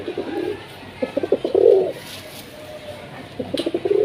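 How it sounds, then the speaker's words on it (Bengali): Gorra pigeons at a pigeon fair give soft, repeated cooing calls, close and clear, in two short bursts with a brief pause between them. "ভিউয়ার্স ডাকটা শোনেন কবুতরটার"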